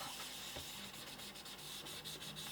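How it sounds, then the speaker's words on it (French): A clean cotton pad being rubbed over paper to blend colours, giving a soft continuous close swishing rub with faint rhythmic strokes, quiet and alone. "avec un coton propre, je viens continuer à mélanger les couleurs"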